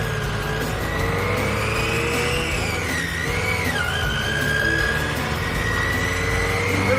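A dune buggy driving, with a steady engine drone and tones that rise and dip as it changes speed, continuous and fairly loud with no voices.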